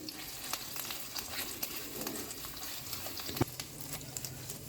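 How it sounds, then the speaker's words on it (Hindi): Steady sizzling of onion, garlic and ginger frying in a pan, with occasional stirring scrapes and one sharp knock; no talking. "अब हम इसमें अपना लहसुन और अदरक डाल के इसको भी जो है इसकी रॉ स्मेल ख़त्म होने तक"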